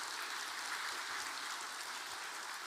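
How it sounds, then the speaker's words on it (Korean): A church congregation applauds during a Sunday worship service for a children's worship team, making a steady, even patter of many hands clapping. It sounds somewhat distant and soft, with no break across the short stretch. "다시 한번 박수해 주시죠"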